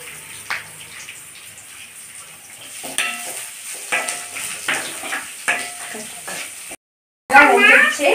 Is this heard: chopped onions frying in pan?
yes